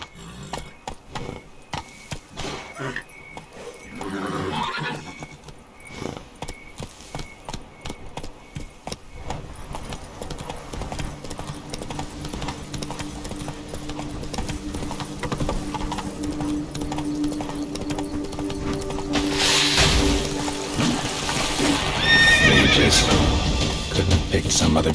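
A horse in The Witcher 3: Blood and Wine gallops with steady clip-clopping hoofbeats and lets out neighs and whinnies, growing louder and busier toward the end, with a voice heard at times.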